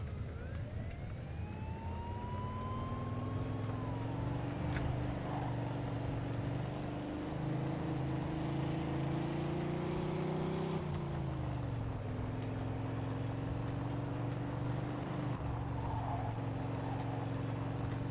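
A BMW X6M drives in Mafia II, its engine holding a steady, droning note with slight shifts in pitch as it cruises, loud and continuous without any talk.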